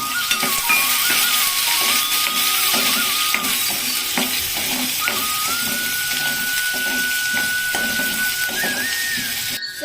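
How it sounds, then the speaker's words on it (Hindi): Onion hitting hot oil with browned cumin and fenugreek seeds, a strong continuous sizzle and crackle with running water and faint kitchen clatter underneath. "जीरा और मेथी दाना जब ब्राउन हो जाएगा तो मैं डालूंगी इसमें प्याज"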